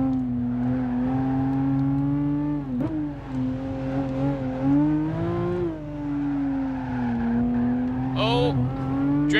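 A Gran Turismo 5 race car drifts through a double chicane, its engine holding a steady loud drone that dips and climbs with the corners, a brief tire squeal near the end, while a voice talks over it.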